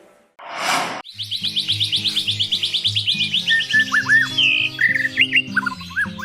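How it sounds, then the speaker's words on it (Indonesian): A white-rumped shama sings a fast, varied stream of bright whistles and trills close by, preceded by a brief burst of noise. "Merdu sekali suara burung murai batu ini."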